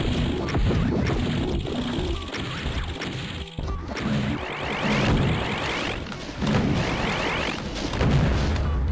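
Rockets explode repeatedly in DOOM II's Hell to Pay map, The Military Complex: loud, close crashing booms and thuds come in quick succession over a constant din of combat.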